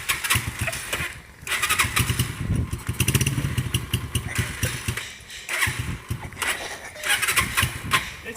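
Motorcycle engine running close by, a rough, loud, fluctuating rumble with brief dips, including a pause near the start and another later, then revving on steadily.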